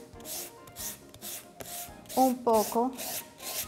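Small piece of sandpaper rubbing gold paint off a Christmas craft piece, heard as a rhythmic series of short scratchy strokes, fairly close, with brief speech partway through.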